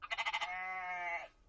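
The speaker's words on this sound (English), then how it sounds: "what sound does a sheep make?" A sheep bleat plays back through a car's Android Auto system: a quick wavering stutter, then a sustained nasal baa lasting about a second, heard alone.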